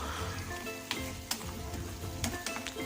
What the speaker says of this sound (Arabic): غنبقى نحرك هنايا الصوص ديال الطوماط ديالنا،